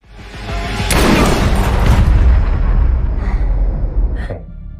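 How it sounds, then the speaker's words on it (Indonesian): A gunshot in an action film lands as a loud, close boom that swells into a heavy rumbling tail and slowly fades. "mengambil senjata yang tergeletak lalu memberanikan diri menembak musuhnya"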